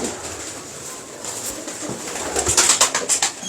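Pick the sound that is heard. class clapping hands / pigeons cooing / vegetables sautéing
pigeons cooing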